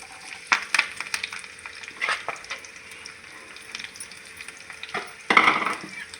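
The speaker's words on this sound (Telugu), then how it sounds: "ఉల్లిపాయలు మంచిగా వేగాలి." Onions hitting about three spoons of hot oil with green chillies and curry leaves for a gravy curry, giving a steady sizzle broken by brief stirring scrapes and a louder burst of frying near the end, close up and without talk.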